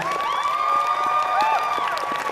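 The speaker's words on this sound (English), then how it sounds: "Let's give Rabuckles a big round of applause" Audience applause and cheering at a live Pokémon game show at an anime convention, steady clapping throughout with bright sustained tones ringing over it.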